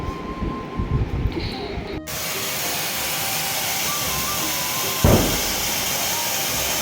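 Firecrackers set off outdoors for the Vishu festival in Palakkad, Kerala: a loud, steady hissing rush suddenly swells, with a sharp burst about two-thirds through.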